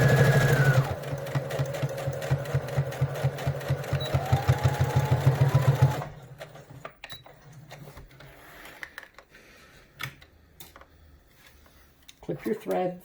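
A sewing machine stitches right up to the raw bottom edge of a fabric face mask and back stitches at the end, whirring steadily and close for several seconds before stopping, followed by quiet handling noises.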